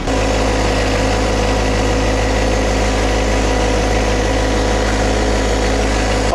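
A John Deere 1025R compact tractor's engine hums at a steady, loud drone up close as it drives with its blade cutting a spoon drain in Australia, with constant low rumble and no pauses or voices.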